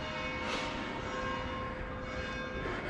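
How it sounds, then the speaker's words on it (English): A city church bell near a museum and city hall rings on steadily, its sustained tone heard from a distance at low volume over outdoor ambience. "I don't know how long that bell is going to go on"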